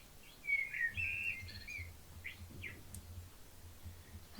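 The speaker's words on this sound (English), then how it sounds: "And the sound of blackbirds and birdsong is sweet and plaintive." Blackbirds sing in a quiet outdoor setting, a few faint melodic whistled phrases and short chirps over a low background hum.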